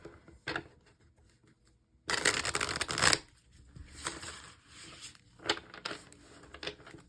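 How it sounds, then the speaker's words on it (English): Tarot cards are shuffled by hand in a burst of dense riffling lasting about a second, followed by a few quieter card flicks and taps in a quiet room. "Shuffle one more time."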